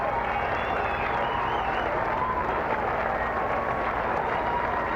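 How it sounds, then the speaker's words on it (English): Golf gallery at the final round of the 2004 Kraft Nabisco Championship applauds a player finishing at the 18th hole, a dense, steady wash of distant clapping and crowd noise with a faint steady hum underneath. "Michelle Wee gets a nice round of applause from the gallery."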